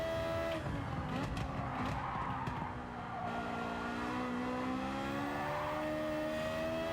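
Touring car from Gran Turismo 7's World Touring Car 800 class at Watkins Glen, running a lean fuel map: a steady engine note rising and falling as the throttle is feathered, with occasional tyre squeal, loud and continuous with no talk.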